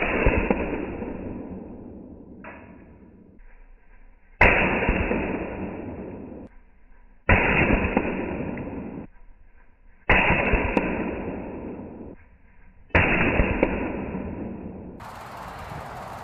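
Rifle shots from a .22 Magnum Savage Model 93 and a .17 HMR Marlin 17V fired at clay blocks outdoors: five sharp, loud reports about three seconds apart, each trailing off in a long echoing decay, with no talking.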